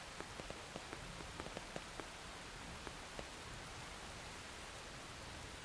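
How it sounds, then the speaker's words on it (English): Steady rain hiss in the video game Xenoblade Chronicles X Definitive Edition, with scattered sharper droplet taps over an even wash of falling water and no voices. "it's raining."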